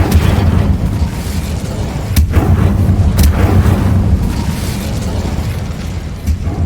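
The Bombarda explosion spell in Hogwarts Legacy goes off as a loud, sustained booming rumble, with a couple of sharper blasts cutting through the dense low roar and no speech.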